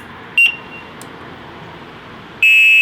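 A short electronic beep, then after a pause a louder, sustained high-pitched tone from an Eskuta SX250 electric bike's horn, close by over faint background noise.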